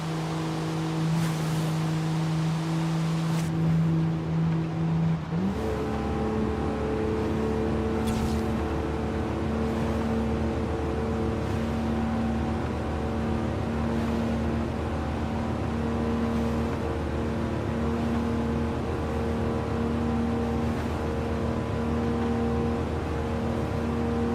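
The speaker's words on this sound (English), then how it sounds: "Got a very distinct engine sound, you know." Car engine in the racing video game Forza Horizon 5, a track-focused machine with an 8-speed gearbox, droning steadily with a clear tonal hum that shifts up around five seconds, then holds a sustained cruising note throughout.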